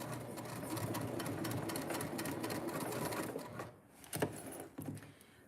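A sewing machine runs steadily while stitching fabric, a continuous close mechanical whir that cuts out near the end, followed by a couple of short clicks and bursts.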